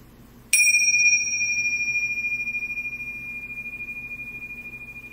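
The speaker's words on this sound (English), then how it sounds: "I'm gonna ring bells to start class." A single bright bell strike rings out clearly and sustains with a long, slowly fading shimmer, alone in a quiet room.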